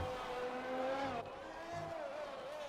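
Race car engine revving steadily through a hot lap on the Singapore street circuit in a racing video game, with a sustained mid-pitched engine tone that shifts gear around the middle, loud and close throughout.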